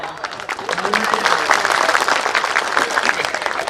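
A festival crowd gives a loud, sustained round of applause after a speech, dense clapping that swells and holds steady, with some voices mixed in underneath.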